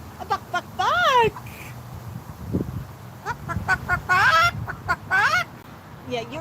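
A pet cockatoo makes chicken-like clucking and squawking calls in short bursts, close and fairly loud, while a person talks between the calls.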